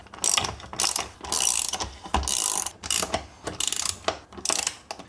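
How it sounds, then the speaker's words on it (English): Spanner ratcheting in repeated bursts while tightening the mounting bolts of an OPENROAD 180 freestanding awning fitted to a Suzuki Grand Vitara, crisp close clicking strokes with short pauses between them, no talk. "Just put a shifter or spanner on there. Tighten them down till they're nice and snug."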